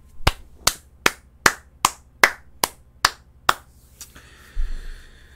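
Audience clapping in a slow, deliberate unison, nine sharp, evenly spaced claps ringing out close and clear, followed by a brief scattered tail of softer sound.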